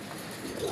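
Soft cooing from a male desi pigeon, a low murmuring call that rises toward the end of a brief moment, with no talk.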